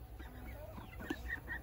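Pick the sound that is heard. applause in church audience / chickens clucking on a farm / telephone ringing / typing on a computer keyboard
chickens clucking on a farm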